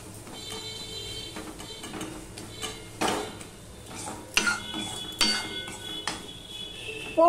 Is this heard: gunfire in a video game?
no